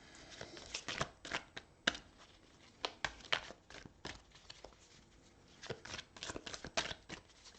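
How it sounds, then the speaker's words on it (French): Tarot cards being shuffled, a quiet, close run of papery riffles and soft slaps in irregular bursts with short pauses between them, no voices. "Les cartes sautent de votre jeu"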